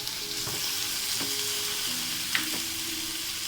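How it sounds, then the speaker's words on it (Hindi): Chopped tomatoes fry in a pan of oil for a layered chicken pasta, giving a steady close sizzle with occasional soft stirring scrapes and a small clink. "अब मैं इसमें टमाटर ऐड करूँगी।"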